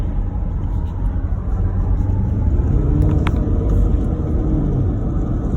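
A Porsche Macan SUV in sport mode pulls hard, its engine a steady, close rumble that swells slightly, heard from inside the cabin with no talk over it.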